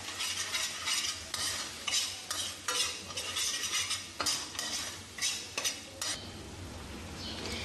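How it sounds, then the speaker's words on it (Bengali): Spices including chilli powder are stirred in hot oil in a pan, making a steady sizzle broken by repeated sharp spoon scrapes and clinks against the metal. "এই মশলাগুলোকে দিয়ে ভালো মতন আমি নাড়িয়ে নিচ্ছি"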